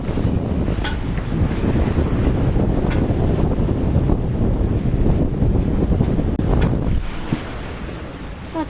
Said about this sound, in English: Boat's getting pushed around quite a bit with these waves.